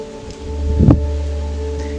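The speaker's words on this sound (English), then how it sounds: "It's a little bit windy" Low, steady wind rumble buffets the microphone outdoors, swelling into a stronger gust near the middle before settling back, with no one speaking.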